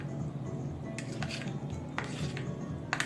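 A spoon scrapes and clinks against a bowl as gravy is mixed into fresh cream for a veg Nizami handi, with a few soft metallic taps over a low kitchen background.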